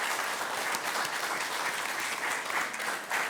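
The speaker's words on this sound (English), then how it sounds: "Please give him a warm round of applause." Warm, continuous audience applause welcoming a prison chaplaincy speaker to the dais, full and even across the whole stretch with no talking.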